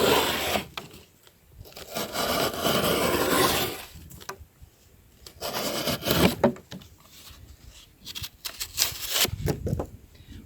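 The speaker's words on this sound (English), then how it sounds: "Works just fine through our thick double wall cardboard." Bestech BowieTie flat-ground knife slicing through thick double-wall cardboard, with rough, close scraping and tearing strokes in several bursts separated by short quiet gaps.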